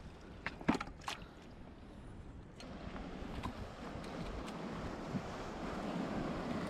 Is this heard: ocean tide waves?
yes